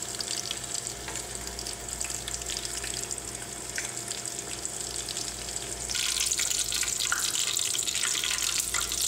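Anaheim chilies fry in hot oil with a continuous crackling sizzle, steady at first and growing brighter and louder partway through, close up with no talking.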